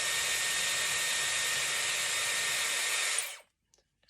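Dyson Airwrap hair styler blowing on its cool shot setting, a loud close steady airy whoosh that runs for about three seconds and then cuts off to near silence.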